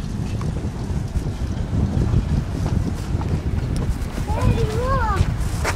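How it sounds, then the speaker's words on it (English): Heavy wind buffeting the microphone with a constant low rumble and gusty roar on a street in Kharkiv, Ukraine, while a voice speaks faintly underneath. "It's windy. It's going to be hard to hear anything."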